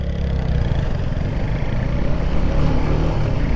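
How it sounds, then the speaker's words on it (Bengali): A Suzuki Gixxer 250cc motorcycle engine runs with a steady, loud, broadband roar that stays constant for several seconds, heard up close with no talk. "এই হচ্ছে ইঞ্জিনের সাউন্ড"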